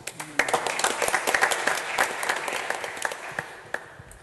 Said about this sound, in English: And a round of applause to her.